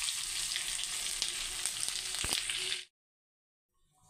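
Two dry red chillies and a bay leaf frying in butter for a village-style green chicken curry, a close crackling sizzle with a few sharp pops, which cuts off abruptly into near silence.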